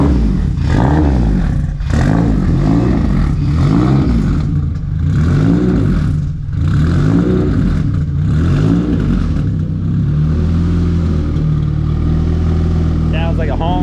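A K-swapped Subaru STI engine revs repeatedly in rising and falling surges, loud and close, then settles into a steady idle, with voices talking underneath.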